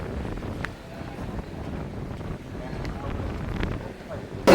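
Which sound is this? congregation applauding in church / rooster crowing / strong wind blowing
strong wind blowing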